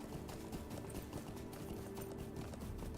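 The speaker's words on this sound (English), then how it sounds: "Keep hearing what I thought was somebody's, like, horse that made tinkly noises" Rapid, steady horse hoof clip-clop in the fantasy online game Lord of the Rings Online, set in Angmar, running continuously over game ambience and faint music.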